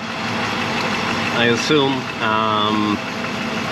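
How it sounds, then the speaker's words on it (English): A parked Mercedes W126 500SE with a slipping automatic transmission idles with a steady mid-pitched engine hum and running vibration, while someone speaks briefly over it. "the engine is making a lot of noise"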